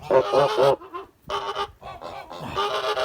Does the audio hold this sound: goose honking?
yes